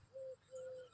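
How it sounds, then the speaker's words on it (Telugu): Two cooing bird calls, likely a pigeon or dove, sound in a crop field: a short steady coo followed by a longer one, clear and fairly close against a quiet outdoor background. "ఈ పిట్టలు చూడబ్బా ఏమన్నా తిరుగులాడుతుండే"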